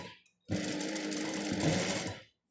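A sewing machine stitches the back and sleeve of a pleated dishdasha, running as one loud, steady mechanical whir for about two seconds after a brief pause.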